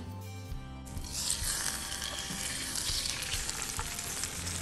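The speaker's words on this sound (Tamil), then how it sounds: "ஸோ கடுகு அண்ட் பெருங்காயம் பெருங்காயம் எல்ஜி பெருங்காயத்தூள் போட்டேன்" Mustard seeds and asafoetida sizzling in hot oil while tempering for raw mango thokku, a sudden burst of loud crackling and spitting that continues densely, close up and with no talk.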